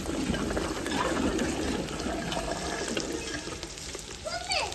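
Okra fries with chillies browned in oil, a loud, broad hissing sizzle that fades slightly, with faint stirring clatter near the end.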